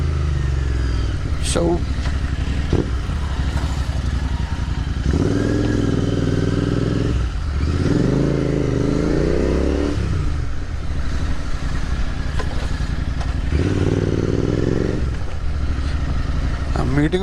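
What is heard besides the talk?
Royal Enfield Continental GT650 motorcycle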